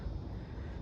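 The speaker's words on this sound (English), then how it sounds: "you can hear one of the big planes going out" A large airplane from a nearby RAF base passes overhead as a steady, low, rumbling drone that stays even and fairly faint throughout, with no voices.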